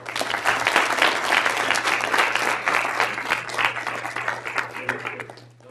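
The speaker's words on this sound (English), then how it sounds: "I'd really like to ask everyone to just give them one more round of applause" An audience gives a sustained round of applause at a competition final, dense and steady for several seconds before thinning out at the end, with a low steady hum underneath.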